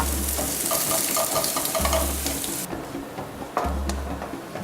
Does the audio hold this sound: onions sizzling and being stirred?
yes